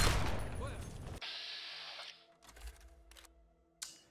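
A combat shotgun firing in Fallout 3, with a loud blast at the start followed by a few sharp shots and mechanical clacks spaced out over a quieter background, with someone talking early on.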